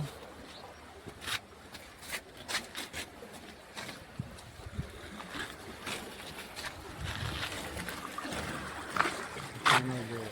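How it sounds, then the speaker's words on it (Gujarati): Water runs through the Narmada canal, which is flowing full. The steady gush swells and grows louder in the second half, and voices and brief clatters break in over it. "અત્યારે કેનલ ફૂલ જઈ રહી છે।"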